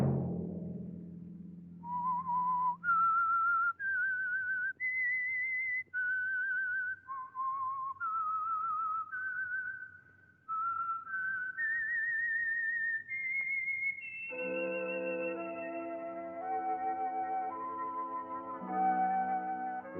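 A lone, clear whistled melody, the theme tune of the radio show The Whistler, moves through a slow series of sustained, slightly wavering notes, close and prominent, with faint musical accompaniment entering toward the end.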